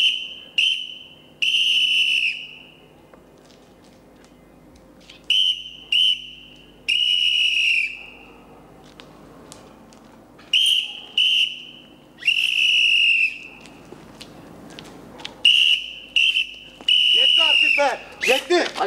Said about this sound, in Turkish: Ver bakayım düdüğünü.